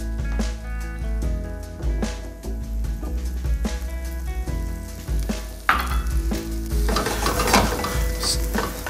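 Sliced onions with sugar caramelize in an oiled frying pan, sizzling loudly and continuously up close while a utensil scrapes and stirs in repeated strokes, growing busier near the end.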